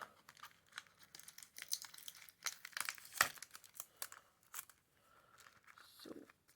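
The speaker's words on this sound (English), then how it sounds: "So I need to take this sticky off." Sticky backing being peeled off a small die-cut tag die, a close, quiet series of crinkling and tearing rustles with sharp bursts, no talk.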